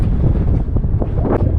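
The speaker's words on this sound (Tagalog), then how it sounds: "Kahit maaraw, malakas pa rin yung hangin dito" Strong wind buffets the microphone on a sunny day atop a long, roughly one-kilometre bridge on Biri Island, a steady low roar with gusty swells and no voices.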